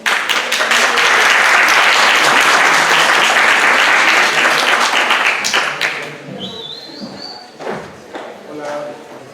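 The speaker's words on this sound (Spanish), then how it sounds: "Recibámoslos con un fuerte aplauso." An audience at a contemporary audiovisual art panel breaks into loud, dense applause that fades after several seconds, followed by quieter shuffling, taps and a faint whistle-like tone.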